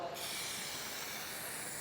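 Spray paint coat being applied for a piano black finish, a continuous close hiss from the aerosol can that starts abruptly and holds steady throughout.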